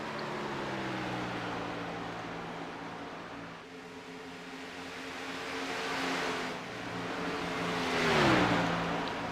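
Race cars in a sim racing video game drone steadily through turns 3 and 4 of an oval, engines holding a constant pitch, then swell and bend downward as a car passes close by.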